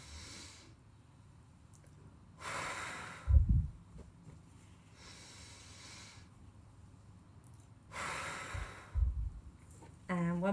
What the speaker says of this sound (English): So big deep breath in.